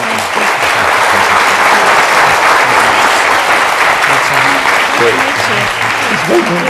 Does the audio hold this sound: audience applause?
yes